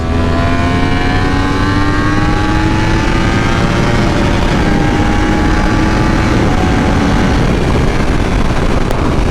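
A Yamaha R1 motorcycle riding on a road near Tijuana makes a loud, continuous engine drone with rising pitch as it accelerates, heavy wind rush over it, no voices.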